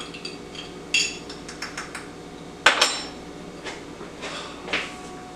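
Bar spoon stirring a cocktail with a dropped-in orange peel in a glass, a handful of sharp clinks and taps against the glass, one louder clink near the middle, close and clear with no talking.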